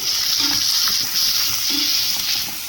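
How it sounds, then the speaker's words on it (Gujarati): Garlic and onions fry in hot oil for dal fry, giving a steady bright sizzle, while a utensil stirs them with a couple of soft scraping strokes close by. "હવે આપણે એને હલાવી નાખવાનું છે"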